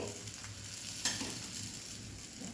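Thalipeeth fries in oil in a pan over a medium gas flame, giving a steady close sizzle with a brief stirring scrape partway through.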